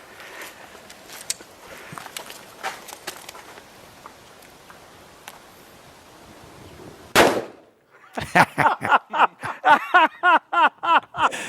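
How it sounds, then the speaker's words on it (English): A single loud, sharp gunshot fired at a watermelon on a police shooting range, cutting through quiet background rustling and followed by a rapid burst of rhythmic laughter. "we went out to one of the police ranges and shot at watermelons"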